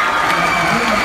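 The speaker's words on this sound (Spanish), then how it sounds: "Fuerte el aplauso para los centros" Crowd at a Spanish-language arts education festival cheering and applauding, a dense steady roar of clapping and shouts filling the whole short stretch at close range.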